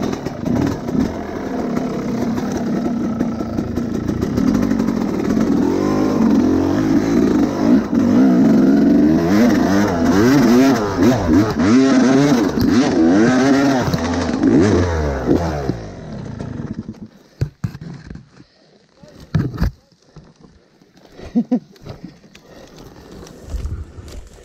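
A Yamaha YZ 250 two-stroke enduro motorcycle engine runs loud and close, revving and rising and falling in pitch as the throttle opens and closes, then drops to sputtering, uneven bursts near the end.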